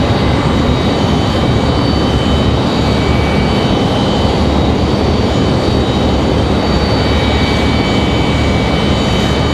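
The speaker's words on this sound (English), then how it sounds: "Frontier 2343, they're headed to Dallas. It's an A320neo." A Frontier Airlines Airbus A320neo in whitetail livery roars steadily at Raleigh-Durham airport, a loud, continuous broadband jet rumble that holds without a break from start to finish.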